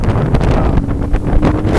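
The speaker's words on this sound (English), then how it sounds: "it's a breezy day here today" Strong wind buffets the microphone on a breezy beach near a pier in the Palm Beaches, a loud, steady low rumble with gusty swells and no talking.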